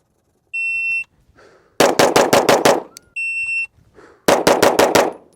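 Staccato HD P4 pistol fired at a shooting range: two strings of about six rapid, sharp shots, each string set off by a steady shot-timer beep, loud and close.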